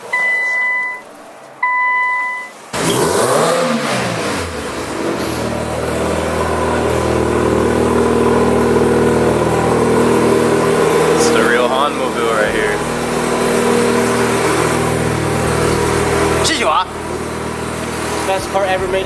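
A big turbo Mitsubishi Evo 9 beeps, then its engine cranks and fires, settling into a loud rough idle with rising revs, close by, with people talking over it.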